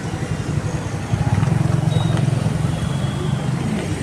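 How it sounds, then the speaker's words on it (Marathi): Road traffic on the Mumbai to Pune road, with a steady low engine rumble from nearby cars and motorcycles that swells for a couple of seconds as a vehicle passes close, then settles back to a constant hum. "या रोडला नेहमी ट्रॅफिक असतं."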